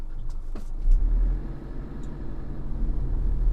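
A 2005 Isuzu D-MAX basic pickup drives in 2-wheel drive, its engine a steady low rumble with road noise, a brief swell early on, then an even cruise without talk.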